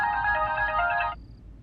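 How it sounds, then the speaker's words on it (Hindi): A phone ringtone plays a bright, clear electronic melody for just over a second before cutting off abruptly into quiet room tone, set in an Indian television drama. "रणवीर के मैनेजर टिंगरा साहब का फोन है।"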